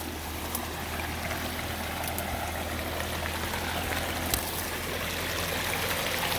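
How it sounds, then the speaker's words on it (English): A small waterfall in an ecosystem pond produces a steady, broad rushing splash, close and continuous, with only faint other background sounds. "And this is just another waterfall."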